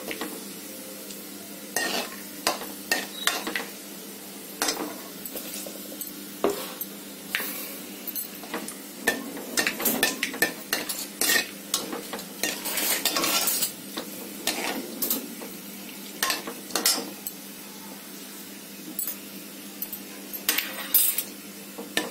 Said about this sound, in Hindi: एक चमचे की मदद से हम इसको भून लेंगे।